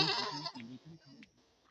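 A few goats bleat close by, a loud wavering cry followed by shorter, fainter bleats.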